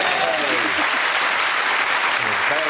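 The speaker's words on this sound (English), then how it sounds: "Very, very lukewarm round of applause" A studio audience gives a short, thin round of applause, a brief patter of clapping that stays muted and unenthusiastic, with someone talking over it.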